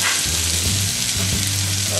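Meat hitting hot oil in a pan with onions and garlic sizzles loudly and steadily, a dense close frying hiss with low bubbling underneath, continuous throughout.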